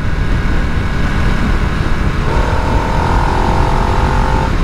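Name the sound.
2022 Harley Davidson Nightster 975 motorcycle riding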